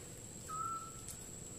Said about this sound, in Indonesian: ini suara burung tuh